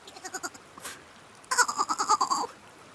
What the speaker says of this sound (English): On a boat stood a goat who was bleating loudly.